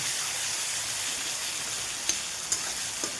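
A masala gravy of chilli powder and spices sizzles steadily in a frying pan for a fish curry, with a few sharp spoon knocks near the end. The sound is continuous and close, with no talking.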